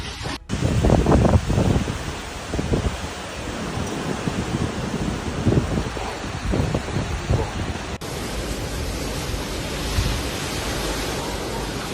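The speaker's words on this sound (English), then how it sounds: "users on Monday morning post first video on heavy winds and rainfall" Heavy winds and driving rain of Cyclone Belal lash Réunion island, a loud, continuous roaring wash of noise with gusty surges and no voices throughout.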